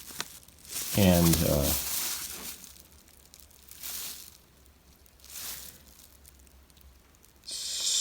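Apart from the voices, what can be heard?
unwrapping the packaging from a drum throne top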